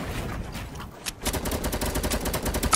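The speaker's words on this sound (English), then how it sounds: "No, they're shooting at me" Rapid automatic gunfire in a battle royale video game, a brief pause followed by a dense stream of shots that grows louder toward the end, with no speech over it.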